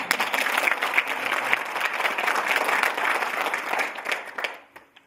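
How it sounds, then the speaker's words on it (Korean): Audience applause at an entrance ceremony for a women's academy at a Busan university, a dense, steady clapping crowd that fades out near the end. "고마우니 박수 한번 쳐주면"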